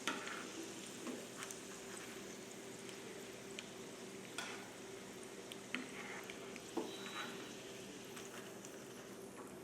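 Surti ghari dough sweets frying in hot oil, a steady soft sizzle and bubbling with occasional faint clinks and stirring taps, heard alone at low level.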